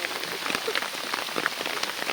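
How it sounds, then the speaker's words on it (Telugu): Steady rain patters on surfaces in a jungle, a dense even hiss with scattered close drops tapping throughout. "వర్షం కూడా చూసారు కదా ఎలా వచ్చేసిందో"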